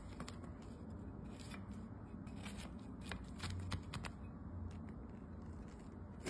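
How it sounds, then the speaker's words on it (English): A knife saws through a slice of one-pan pie with a buttery crescent-roll crust, giving faint repeated crunchy scrapes and crackles over a steady background hum. "I'm gonna go ahead and cut myself a slice"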